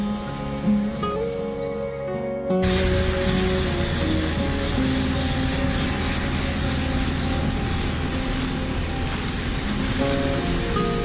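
Rain in the mountains on the way from Rawalpindi to Muzaffarabad, heard from inside a moving vehicle; after a quieter start a dense, loud patter of drops on the body and glass sets in and continues steadily.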